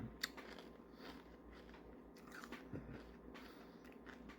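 Crisp bites and chewing of glazed FRIENDS breakfast cereal, a few sharp crunches followed by steady close-up mastication, quiet and intimate with no talking.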